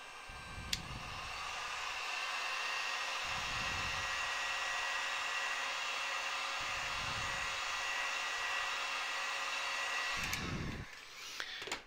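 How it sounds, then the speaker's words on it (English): A heat gun blows over alcohol ink on polymer clay in a crafting session, giving a loud, steady airy roar lasting several seconds, joined by low rhythmic thumps as the clay is handled. "Get my heat gun and just give it a quick dry."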